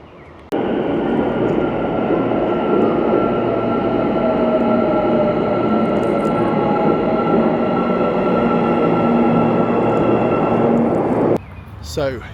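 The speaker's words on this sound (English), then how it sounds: "a glimpse at the Almaty metro, the newest Soviet metro system in the world" An Almaty metro train runs underground with a steady, loud rumbling roar and faint whining tones that begin abruptly and hold for about eleven seconds before cutting off.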